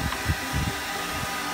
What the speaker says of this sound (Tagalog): Natatakot sa blower.